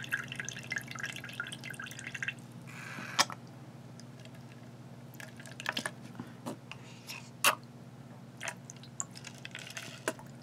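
Water trickles and drips through a fountain pen being flushed clean, a steady faint wet patter over a low hum, with a few sharper drips and splashes standing out.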